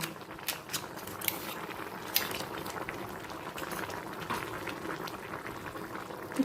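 Neem leaf soup bubbling at a steady boil in a pot, a continuous close, moderate wash of popping and gurgling with a few sharper clinks.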